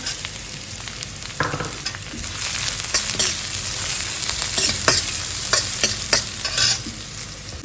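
Ginger and garlic sizzle in hot oil for a tadka, with a steady, close frying hiss broken by repeated scraping stirs of a spoon in the pan.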